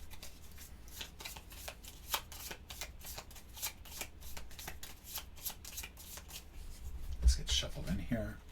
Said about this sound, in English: This gets shuffled in here.